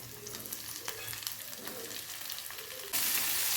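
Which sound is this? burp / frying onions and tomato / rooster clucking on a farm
frying onions and tomato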